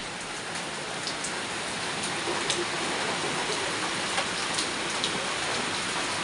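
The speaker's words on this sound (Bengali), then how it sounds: "আর দেখো এখনও বৃষ্টি হয়েই যাচ্ছে" Steady rain pours down evenly, a continuous hiss with scattered drops pattering on nearby surfaces.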